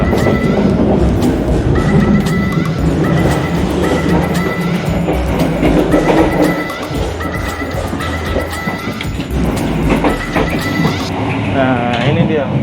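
A Serayu passenger train carriage rolls along the rails with a steady rhythmic clatter and rumble, while people talk close by throughout.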